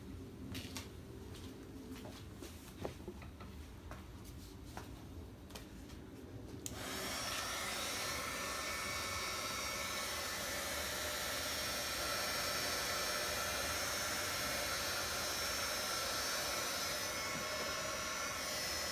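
A strong heat gun runs on a cold day, warming the emblem on a 2017 Chevy Tahoe. A softer whir clicks over into a loud, steady roaring blast of air that continues without a break.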